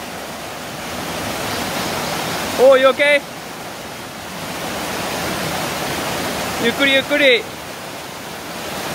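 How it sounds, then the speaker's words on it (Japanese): A strong river current rushes steadily on Iriomote Island during a mountain hike, a loud, continuous roar with brief voices speaking over it twice. "この川ちょっと強いですよ"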